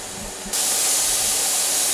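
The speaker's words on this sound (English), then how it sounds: "Here is the steady flow of steam." A pressure canner holding pink beans vents steam, a sudden, loud, steady hiss that starts abruptly and carries on unbroken.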